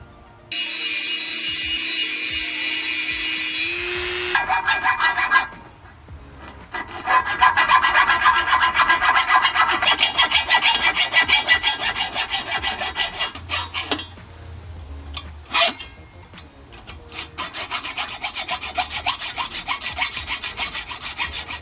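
Hand-sawing through 12 gauge metal roof rack stock, a steady rasping stroke rhythm repeating close up for most of the span, briefly pausing twice, after a short high whine at the start.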